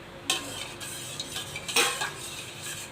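A spoon stirs a mango fruit drink mixed with water, making a few close clinks and swishy scrapes against the vessel, with short bursts separated by quieter moments.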